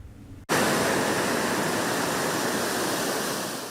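Water of the St. Joseph River in South Bend rushes in a loud, steady broadband roar that starts abruptly and continues evenly, close up, with no voices.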